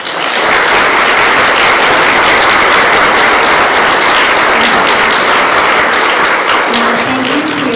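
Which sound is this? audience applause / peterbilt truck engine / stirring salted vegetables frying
audience applause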